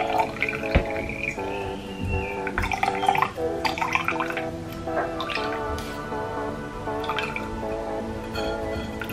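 Cumin seed drink pours through a strainer with close, bubbly dripping and trickling liquid sounds, fairly quiet and continuous without speech.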